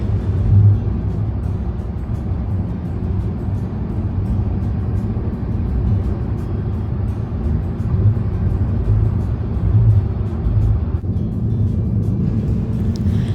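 Interior rumble of a taxi driving from the airport in Phuket, Thailand, with a steady low engine and road drone throughout, loud and continuous with no talk.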